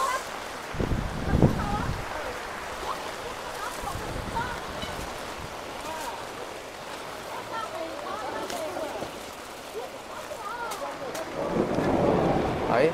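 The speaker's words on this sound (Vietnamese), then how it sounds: "Trời bây giờ là vẫn đang sấm rất là to các bạn." Rain falls steadily at a rainy open-air ethnic market in the highlands of Lũng Phìn, with low rumbles of thunder, and voices talk intermittently underneath.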